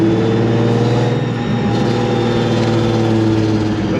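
The engine of a supercharged Nissan 350Z with a Procharger drones loud and close, a sustained high revving note that dips briefly midway and then holds steady.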